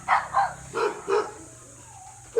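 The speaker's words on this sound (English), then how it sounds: "my dog's playing here" A dog barks in a quick run of four sharp woofs at close range, while it plays inside a cage; a short whine follows, and one last bark comes at the end.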